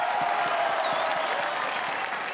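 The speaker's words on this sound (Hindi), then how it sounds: "तो जज गुरु संजय के लिए जोरदार तालियां." Studio audience applause on a televised singing talent show, a dense even wash of clapping heard throughout this brief moment.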